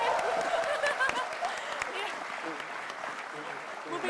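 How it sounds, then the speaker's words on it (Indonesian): Applause from the audience at an Indonesian comedy show, a dense wash of clapping that holds steady at moderate volume for about four seconds with a few louder claps at the start and a scattered chuckle underneath. "tepuk tangan dong"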